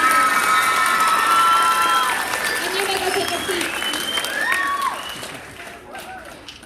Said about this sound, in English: Please give a big round of applause to all of my solo ensemble teams.